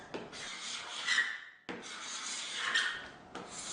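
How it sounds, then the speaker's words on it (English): Old varnish being scraped off wood by hand: two long, loud rasping strokes, each about a second and a half, separated by a short pause, with a third stroke starting at the end. No voices. "try to scrape the old varnish off"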